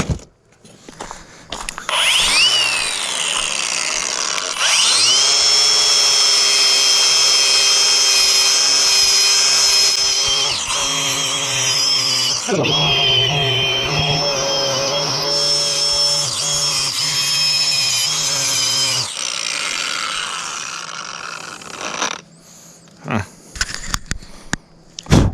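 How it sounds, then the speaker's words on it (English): A power tool sands a rusty motorcycle throttle component, a loud, steady whirring grind that runs for long stretches with pitch shifts as pressure changes, then stops near the end. "what do we do with rusty components? We try to sand them."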